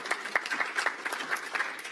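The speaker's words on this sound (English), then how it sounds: "Yes, she deserves some applause." A crowd at a political party summer meeting applauds for a newly introduced director, with moderate, fairly distant clapping in uneven bursts.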